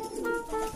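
A racing pigeon coos softly and briefly at close range, a low throaty murmur with faint background ambience and no talking.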